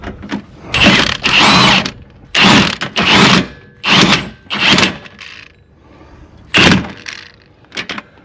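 Ratchet working bolts on the lower control arm of a 2006–2011 Chevy HHR, sounding as repeated bursts of rapid metallic clicking in close, loud spells separated by short pauses.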